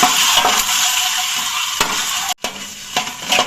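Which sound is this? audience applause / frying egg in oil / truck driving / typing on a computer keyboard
frying egg in oil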